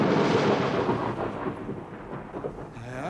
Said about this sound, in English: Aye, there's a storm brewing.